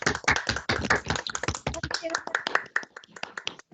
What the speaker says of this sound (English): just give MTS a round of applause for his session today